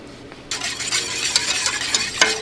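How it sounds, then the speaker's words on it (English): A whisk stirs starter culture into raw milk yogurt, a steady close swishing and scraping in a bowl with a few sharper clinks, heard without talk. "We're just whisking to distribute the starter culture."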